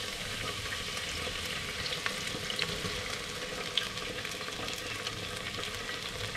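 Onions frying in hot oil in a clay pot for a pea stew, a dense, even sizzle throughout with a few faint clicks, steady and close.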